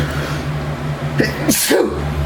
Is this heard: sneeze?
yes